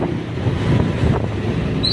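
Steady wind buffets the microphone, a low continuous rumble with no voices.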